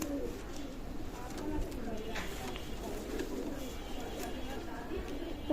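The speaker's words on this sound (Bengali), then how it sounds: "চমৎকার ব্লাড লাইনের কবুতর" Soft, low coos of Pakistani Teddy pigeons repeat faintly beneath a murmur of distant voices and steady background noise.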